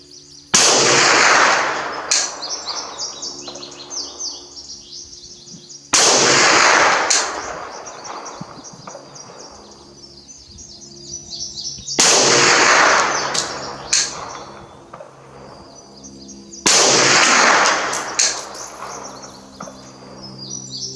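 A PPS-43 submachine gun fires four separate loud bursts on an outdoor range, the sight set for a 200-meter target, each burst sharp at the start and trailing into a long rolling echo, with quiet gaps between.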